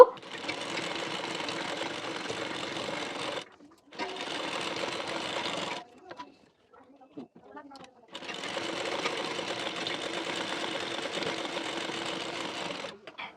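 Sewing machine running two close stitching lines along the edge of the belt part of a size 40 bracut blouse, in three steady whirring bursts with short stops between them.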